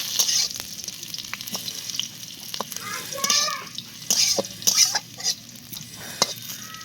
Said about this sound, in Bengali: কড়াই বসিয়ে দিলাম, কালো জিরে ফোড়ন দিয়েছি, পেঁয়াজ কুচি দিয়েছি, শুকনো লঙ্কা দিয়েছি